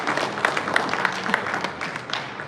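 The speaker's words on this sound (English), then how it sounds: "So big claps to the faculty" Audience applause for the faculty at a university engineering college event, a steady patter of many hands clapping in a hall, moderately loud and fading slightly toward the end, with faint speech underneath.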